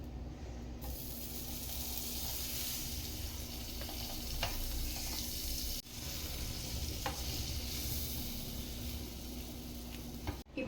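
Butter sizzles and fries steadily in a hot pan while cheese grill toast cooks, a close, continuous crackling hiss with occasional stirring clicks and scrapes.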